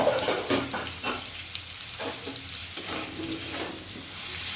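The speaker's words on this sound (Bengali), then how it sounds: "খুব সুন্দর করে কচু ও আলু ভাজা ভাজা করা হয়ে গেছে" Taro and potato pieces sizzle and fry in a pan while being stirred, a steady crackling hiss with occasional scraping stirs, close and moderately quiet.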